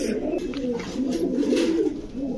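Gorra pigeons at a pigeon market coo in soft, low, throaty rolls, close by and continuous, with light background murmur.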